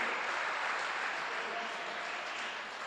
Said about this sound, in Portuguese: Dá um forte aplauso a Jesus.